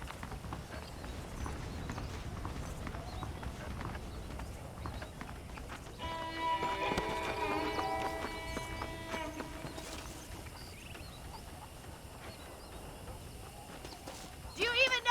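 Horse hooves clip-clop in the Red Dead Redemption video game, steady rhythmic steps at moderate distance under quiet ambience, with a short harmonic musical swell mid-way.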